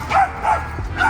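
A pet dog at a meal of chicken in Manila gives three short, close, whiny barks in quick succession, yippy and slightly whimpering, over a low background hum.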